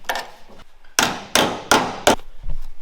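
Hammer beating a new metal body skin into place on Matt's off-road recovery Jeep, sharp ringing blows, about five strikes at an uneven rhythm with a short pause, loud and close.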